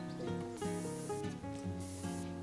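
Spray-can hisses from the video game Spray Paint Simulator come in two soft bursts, quiet and partly buried under continuous background music.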